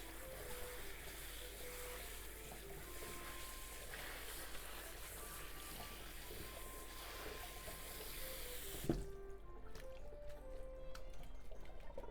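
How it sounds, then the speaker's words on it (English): Wilted spinach is rinsed under running water from a tap, a steady rushing, splashing stream for most of the span that stops abruptly with a clunk, leaving quieter dripping and handling noises. "rinse it under running water"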